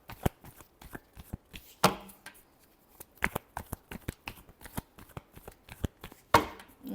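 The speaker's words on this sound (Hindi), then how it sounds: "last shuffle" Tarot cards are shuffled by hand in a fast run of crisp riffling taps and slaps, close and steady, with a few louder bursts and no voices.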